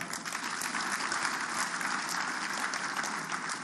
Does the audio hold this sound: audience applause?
yes